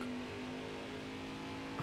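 Racing truck engine in the NASCAR Heat 5 video game at Gateway: a steady, close, droning engine hum held at high revs with a strong tonal whine, fairly quiet and unbroken.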